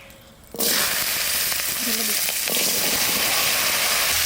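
Potato pieces drop into a hot pan of oil for a village-style fish curry, setting off a sudden loud sizzle that keeps crackling steadily while they are stirred.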